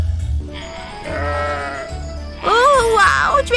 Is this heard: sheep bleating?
yes